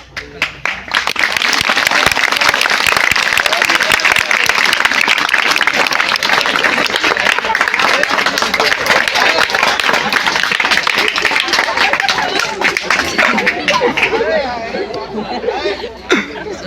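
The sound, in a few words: audience applause and clapping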